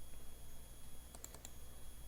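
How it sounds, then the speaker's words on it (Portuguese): A mouse click and a press of the C key on a computer keyboard in Construct 2 game-making software: a few quick, faint clicks close together near the middle, alone over a quiet room hum. "cliquem aqui em qualquer um desses e apertem a tecla C do teclado"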